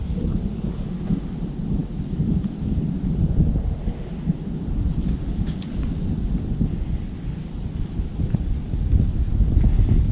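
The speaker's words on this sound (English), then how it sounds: "You can actually see the storm" Thunder rumbles continuously and grows as a storm approaches a late-season deer hunting camp, with steady rain and some wind beneath, loud and enveloping without any talk.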